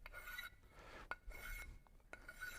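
A hand file rasps along the edges of a milled metal block to deburr them in a machine shop, several quiet, close strokes in a rough rhythm with faint clicks between them.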